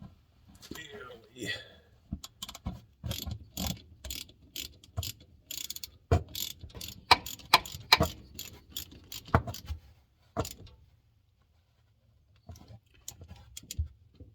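A wrench ratchets on fuel pump bolts of a 1949 Chevy Styleline during a 6-volt electric fuel pump install, rapid close clicking in bursts with metallic clinks, someone talking at the start.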